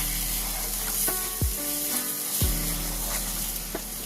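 Cauliflower korma masala fries in oil in a pan, giving a steady, loud sizzle. A utensil stirring the mixture adds a couple of scraping knocks.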